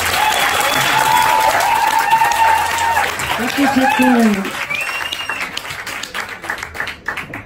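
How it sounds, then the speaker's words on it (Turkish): Audience applause at a live music event, steady clapping from a crowd with a performer's voice speaking briefly over it, then the clapping fades. "Basmadan önce bir teşekkür alkışı alabilir miyiz?"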